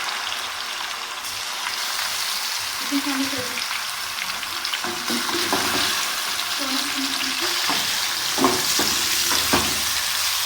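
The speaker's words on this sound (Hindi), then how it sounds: "साथ ही इसमें चिकन शामिल कर लें।" Chicken and garlic sizzle steadily in a pan, a continuous frying hiss with scattered stirring scrapes and pops, close and fairly loud, with no talking.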